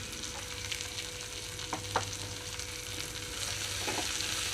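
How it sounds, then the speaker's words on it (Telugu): Grated carrot and dry coconut stirred in a pan over a low flame give a continuous close sizzle, with a couple of faint spatula taps against the metal. "లో ఫ్లేమ్లోనే ఉంచి కలుపుకుంటున్నానండి"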